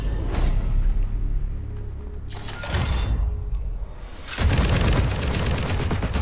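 A submachine gun fires in Call of Duty: Infinite Warfare in several loud bursts separated by short pauses, with booms and thuds mixed in among the shots.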